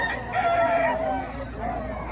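A rooster crows once at a chicken expo in Mantalungon, Barili, Cebu, a drawn-out call at moderate distance over steady crowd murmur and background chatter.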